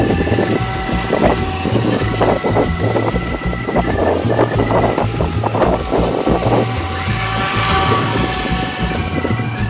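A Volantex Blade RC boat's electric motor runs on a lake with a steady, fairly loud buzzing whine that wavers in pitch, accompanied by wind noise on the microphone.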